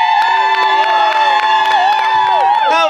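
Spectators cheering for a limbo contestant in Mexico: a loud, continuous burst of high-pitched shrieks, whoops and hollers from many voices, close by and sustained throughout.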